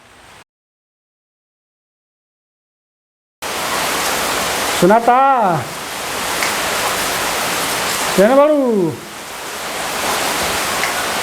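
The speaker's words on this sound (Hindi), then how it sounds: "अरे पानी पड़ता लागता कपाड़वा में।" Water pouring steadily onto clothes, a loud continuous rushing wash that cuts in after a silent gap, with two loud voices calling out over it.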